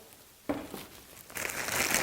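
A plastic bag crinkles and rustles as it is placed into a container of ice and water for first aid, starting with a sharp crackle after a quiet moment and then growing into louder, continuous crumpling.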